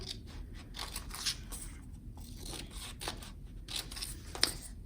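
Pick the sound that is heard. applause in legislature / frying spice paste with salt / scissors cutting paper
scissors cutting paper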